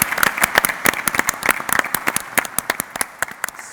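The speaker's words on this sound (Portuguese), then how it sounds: "E uma salva de palmas para vocês." An audience at a live event bursts into applause, with sharp individual claps rising into a dense, fairly close burst that keeps going steadily.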